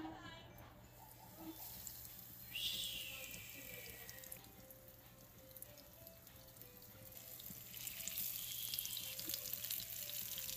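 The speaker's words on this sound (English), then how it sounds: "Hear the sizzle." Kingfish fries in a pan with a soft, steady sizzle, joined by bursts of running water and spattering, faint and close, with people talking at times.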